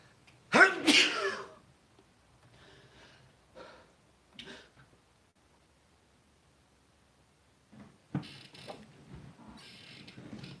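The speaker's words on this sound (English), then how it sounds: "I might sneeze." A single sharp sneeze bursts out near the start, followed by quiet rustling, faint breaths and scattered small noises close by.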